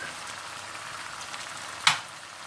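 Spices sizzle in a pan with ginger chicken, a steady soft frying hiss that runs throughout, broken near the end by one sharp clack or spatter before settling back.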